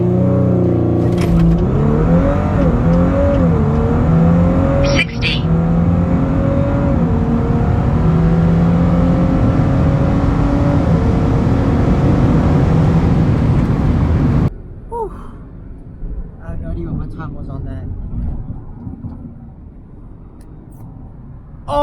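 Stock turbo Audi B9 S4 on all-season tires accelerating hard on the road, a loud sustained engine roar rising through the gears with brief shift dips, then cutting off into quieter cabin rumble and road noise.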